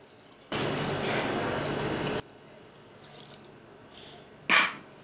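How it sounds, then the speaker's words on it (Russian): Cold water is poured over raw beef being prepared for lagman: a steady, loud splashing pour lasting under two seconds, then quiet with a short splash near the end. "заливаем мы говядину холодной водой"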